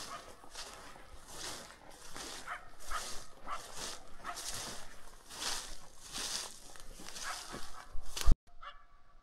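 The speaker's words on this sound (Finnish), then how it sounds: "Tätä haukkuu jänkän toisella puolella," A dog barks repeatedly in the distance across a bog, faint and echoing over open ground, with irregular bursts and some rustling nearby.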